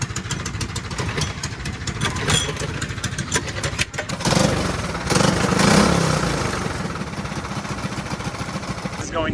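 Go-kart engine at a race meeting cranking over and catching after the fuel pump is primed and the choke is set, sputtering, then firing into a louder uneven running note with brief bursts.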